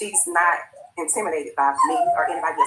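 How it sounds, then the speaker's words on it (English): A small dog barks and yips in short bursts, close by and mixed in with someone talking over it. "That's my dog."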